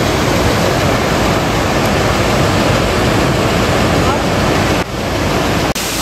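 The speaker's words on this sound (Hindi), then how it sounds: "यहाँ पे देखिए कितना बढ़िया सा एक झरना भी है" A roaring monsoon-season waterfall beside a mountain road in North Sikkim, heard as steady, loud broadband rushing water with a couple of brief dropouts near the end.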